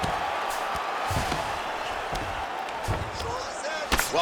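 Ground-and-pound punches landing in the fighting game UFC 5 during a Lerone Murphy vs Dan Ige bout, several dull thudding impacts spaced irregularly over crowd noise, with a commentator talking throughout.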